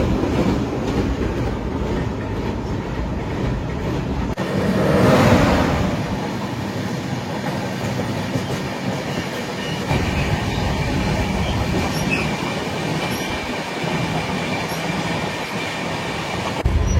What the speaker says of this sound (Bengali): আমাদের ট্রেন এসে পৌঁছালো প্রান্তিকে